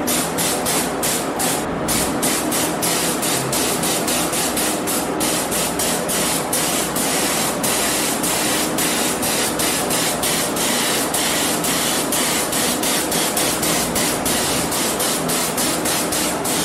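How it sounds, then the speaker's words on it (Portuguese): Matte clear varnish sprayed from a spray gun onto Honda XRE 300 motorcycle plastics, a steady loud hiss running continuously with a fast pulsing flutter throughout, no talk. "Agora vamos aqui para a aplicação do verniz, galera, verniz fosco."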